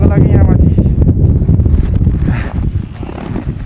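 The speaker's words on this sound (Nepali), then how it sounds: "यहाँ अलिक कम हावा चल्यो" Gusty high-altitude wind near Tilicho Lake, at about 4,919 m, roars and buffets the microphone in a steady low rumble throughout, with voices faintly present beneath it.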